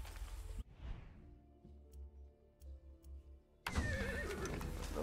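Horse neighing in the video game Far Cry 6: a whinny in a brief quieter stretch, bracketed by louder game sounds, near and moderately loud.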